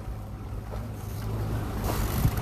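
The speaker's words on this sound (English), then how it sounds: "I guess this sailboat's coming right in here" A schooner sailboat at the Gloucester schooner festival coming in toward the dock, heard as a steady low rumble of hull, water and wind, constant and fairly close with no talk.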